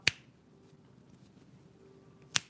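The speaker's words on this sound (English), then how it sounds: "I'll make it snap." Two crisp finger snaps, one at the very start and another just before the end, separated by near silence in a quiet indoor space.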